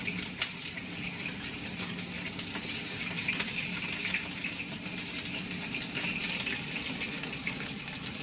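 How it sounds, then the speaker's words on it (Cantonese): Chicken wings shallow-fry in a pan, giving a soft, steady sizzle that runs throughout with light spattering crackles and no talk. "唔係應該我哋用嘅煮法咧係叫做半煎炸"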